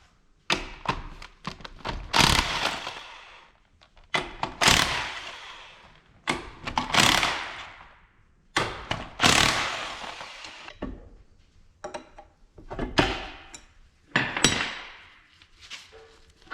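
A PTO casting is worked loose from an 1855 tractor, giving a series of clanks, knocks and scraping metal thuds at irregular intervals, close and fairly loud with quiet gaps between.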